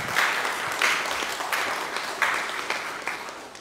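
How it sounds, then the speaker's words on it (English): A church congregation gives a round of applause at a Sunday service, a steady wash of many hands clapping from a moderate distance, lasting a few seconds with slight swells and no voices over it. "So let's just give him a little round of applause for coming and preach for us today."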